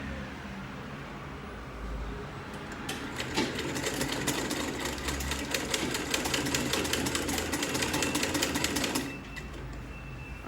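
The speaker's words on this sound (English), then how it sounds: "So I'm going to sew this with you" A sewing machine stitches a corset dress in one fast, continuous rattling run lasting several seconds, close and steady before stopping, with a low hum underneath.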